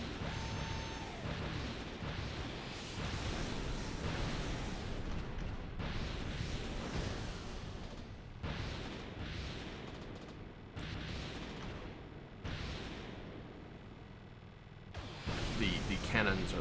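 Many cannons fire from the ship Infinity in a video game, a dense, loud run of booming shots and bursts that lasts throughout. Short gaps break the barrage, and a voice talks underneath now and then.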